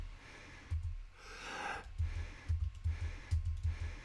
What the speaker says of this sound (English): You can actually hear me breathing here.